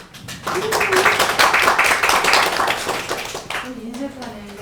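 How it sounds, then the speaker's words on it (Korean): Applause with clapping from an audience at a Justice Party regional committee meeting, sustained for several seconds while an announcer keeps speaking over it. "함께 더 큰 박수 부탁드리겠습니다"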